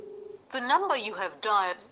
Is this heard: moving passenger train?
no